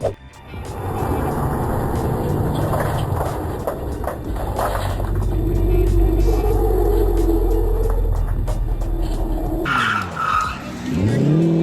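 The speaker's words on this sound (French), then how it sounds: "l'un d'entre eux conduit une Chevrolet Corvette qui dégage une impressionnante fumée blanche sous l'effet de la chaleur" A Chevrolet Corvette revs hard and spins its tyres before a watching crowd, pouring out white smoke, with a loud, sustained engine roar under a steady tyre screech, then dropping to a lower rumble near the end.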